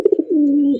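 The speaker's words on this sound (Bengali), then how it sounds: "চমৎকার আরো এক জোড়া কালারিং রাসগোল্লা কবুতর" A colored Rasgolla pigeon gives a single close coo: a few quick bubbling notes, then a drawn-out steady low tone lasting about half a second, clear and alone.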